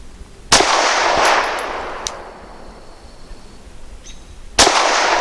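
A Canik TP9 Elite Combat pistol fires zinc-core FMJ rounds: two sharp, loud, close shots about four seconds apart, each with a ringing decay, and small metallic clicks between them.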